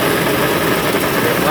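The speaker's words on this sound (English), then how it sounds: "That's the pump switch. Turn it on." The pump of a Morgana DigiFold Pro paper folding and creasing machine running, a loud, close, dense mechanical hum and hiss that stays steady for a brief moment.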